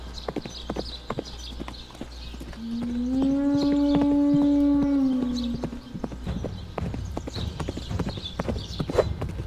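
Horse hooves clip-clopping in a VR battle game, steady close rhythmic thuds running throughout, with a long drawn-out tonal whinny-like call rising and fading in the middle.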